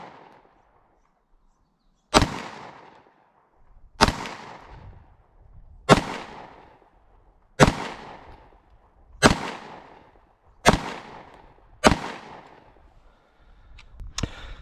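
Beretta PX4 Storm Compact pistol firing seven sharp, loud shots roughly every two seconds outdoors on a breezy range, each crack followed by a brief decaying tail; the first shot is fired double action, the rest single action.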